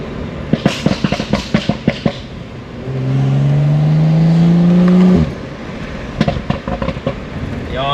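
Engine of a non-M BMW car while driving, a steady rising drone that swells for a couple of seconds amid choppy cabin noise and knocks, then drops away abruptly.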